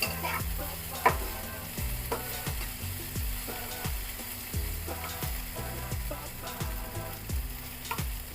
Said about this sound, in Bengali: তারপরেও আমি আর 2 মিনিটের জন্য ভাজবো।